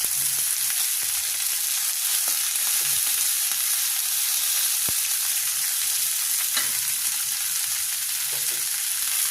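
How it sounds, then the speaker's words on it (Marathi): Mixed vegetables and medium potato pieces fry in oil with a loud, steady sizzle, occasional soft knocks of a spoon stirring through the pan. "तेलामध्ये परतवून घ्याव्यात."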